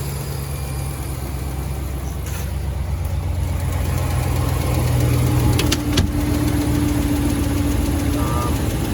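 A 2016 Dodge Ram 1500 with the 5.7L engine idles with a steady rumble and a fine ticking from a leaking exhaust manifold, heard close up, plus a brief clank near the end.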